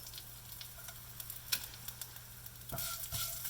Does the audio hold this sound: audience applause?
no